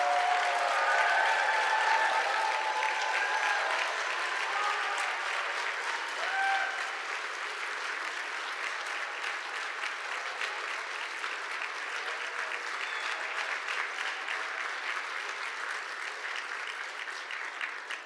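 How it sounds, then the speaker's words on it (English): Sustained, dense applause from a large audience at a medical school Match Day ceremony honoring students, loud and steady at first and easing slightly while continuing throughout. "round of applause for our students."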